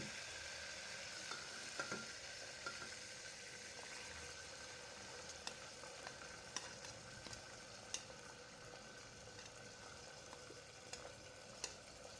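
Onions fry in a pan for vegetable pulao, a quiet, even sizzle and crackle with a few faint clicks of stirring, steady throughout and without talking.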